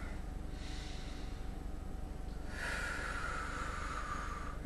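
Slow nasal inhale during a bedtime yoga stretch, a soft airy breath sound that swells midway and holds steady, close and quiet with no talking.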